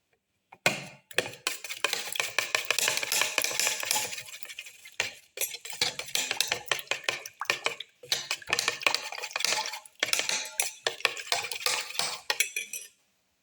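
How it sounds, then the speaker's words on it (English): Eggs for a black pepper mint leaf omelette, with tomato pieces, being whisked until frothy in a bowl, giving rapid, steady clinking and scraping strokes in long runs broken by brief pauses, close and fairly loud. "Mix until it's frothy."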